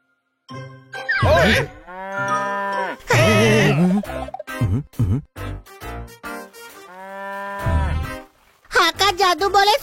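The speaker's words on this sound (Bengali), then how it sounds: "এটা একটা গরুই" A cartoon cow in a Bengali kids' show moos in several drawn-out, tonal calls broken by short gaps, with a bright jingling burst near the end.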